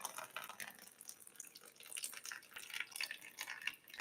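Excess water pours and trickles out of an overwatered rose pot, splashing and dripping into a container nearby, quiet and irregular throughout.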